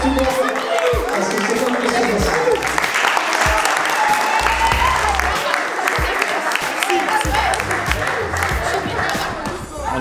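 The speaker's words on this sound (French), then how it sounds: "on peut tous s'applaudir même, je pense." Audience applause fills a hall at the close of a youth eloquence contest run by social centres, sustained and fairly loud throughout with a few voices calling out over the clapping.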